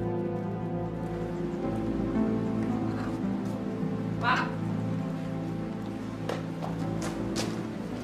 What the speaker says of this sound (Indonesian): Bentar lagi juga hujan ini berhenti.